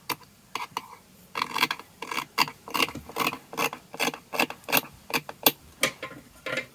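Scissors snipping through pinned layers of fabric while cutting out men's home trousers, a steady run of close, crisp cuts at a regular rhythm with no talking.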